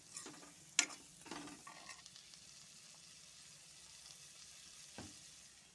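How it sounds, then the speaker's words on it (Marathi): Peas and potatoes fry in masala in a pan, giving a soft continuous sizzle with a few sharper scraping stirs near the start and one more toward the end. "वटाणा बटाटा झालेला आहे मसाल्यात परतून"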